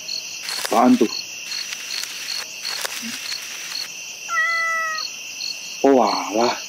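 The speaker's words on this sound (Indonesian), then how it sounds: "Oh alah, ternyata cuma kucing." A cat meows twice at night, first briefly and then in a longer drawn-out call near the end, against steady cricket and insect chirping, with a faint tonal whine in between.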